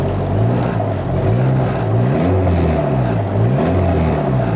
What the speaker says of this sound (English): so let's give it a little rev up